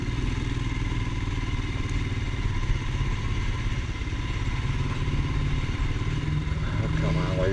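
A Royal Enfield Himalayan motorcycle engine labouring in fifth gear around 3000 RPM while riding, a loud continuous thrumming drone with wind noise throughout.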